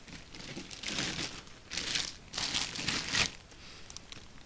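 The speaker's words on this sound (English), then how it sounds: "We're going to unwrap this" Close, crinkly bursts of plastic packaging rustle and tear as a Line 6 Helix guitar processor is unwrapped, coming in several uneven waves with short pauses between.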